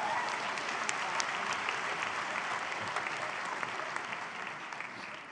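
An audience at a spring university convocation applauds in a steady, fairly distant round of clapping that fills the hall and fades a little toward the end.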